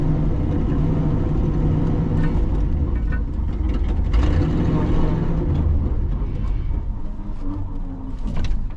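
A 1967 Ford F250 crew cab truck drives in to park, its engine giving a steady, close, low rumble and whir that holds throughout with slight swells.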